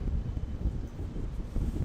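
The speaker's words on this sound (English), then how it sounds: "Yeah, it's a bit windy." Wind buffets the microphone at Auckland International Airport, a low, gusty rumble that rises and falls without pause and with no one talking.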